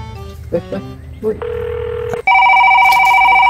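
A short snatch of voice comes first, then phone keypad tones and a steady electronic ringing tone on the line, loud and close.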